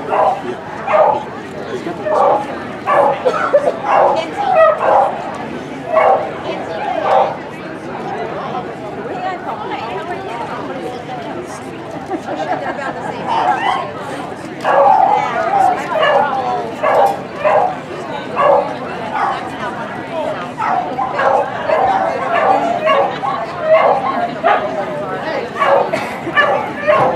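A dog barks, yips and whimpers repeatedly over nearly half a minute, with a person talking over and between the sounds.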